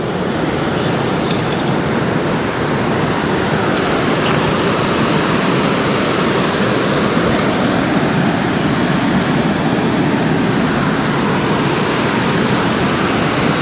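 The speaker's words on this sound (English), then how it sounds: "You guys can probably barely hear me because of these rapids" Creek rapids rush loudly and steadily, a constant broad roar of churning water close by with no talking.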